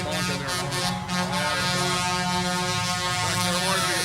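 Truck air horns blare continuously and loudly at a trucker protest in Canada, and several long tones overlap into a sustained honking chorus.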